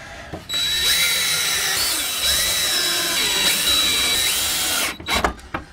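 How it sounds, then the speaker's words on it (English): A power drill driving screws into wood whines steadily up close for about four seconds, its pitch shifting slightly under load, then stops with a few short clunks. "I'm going to be screwing these pieces of wood to this board here"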